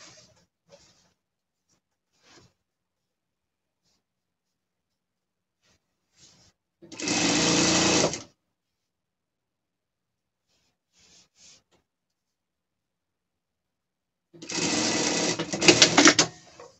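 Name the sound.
overlock or zigzag sewing machine stitching fabric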